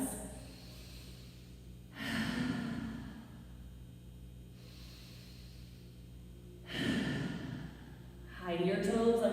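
Deep breathing during a stretching flow: two slow, full breaths in and out, each long and soft with gentle airy hiss, separated by quiet pauses, close and clear with no talking.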